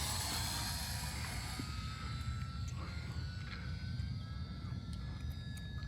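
Small UMX Beast 3D RC airplane taking off and flying, a faint steady electric motor whine with rising and falling pitch over background wind noise.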